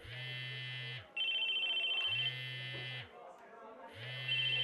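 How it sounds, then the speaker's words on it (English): Cell phone ringing in the Chaos;Head visual novel game, an electronic buzzing ringtone in repeated pulses of about a second, loud and up close, with short gaps between rings. "An electronic sound suddenly rang from through the classroom."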